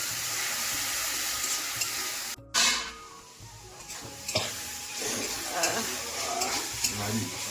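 Spice paste sizzles in hot oil, a dense hiss broken by a sudden sharp burst as more goes into the pan, then settling into uneven crackling and stirring scrapes.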